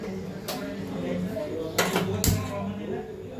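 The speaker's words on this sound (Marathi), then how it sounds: "तर मी इकडे कढई ठेवून घेतलेली आहे." A metal kadai set down on a kitchen stove, three sharp metallic clanks spaced over a few seconds against a quiet room hum, close by with no talk.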